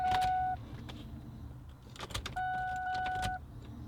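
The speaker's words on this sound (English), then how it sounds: "prime the fuel pump." A 1999-2004 Ford Mustang fuel pump primes after a fuel filter swap, giving two steady electric whines of about half a second and one second, with soft clicks and clunks in between, heard close up with no talking.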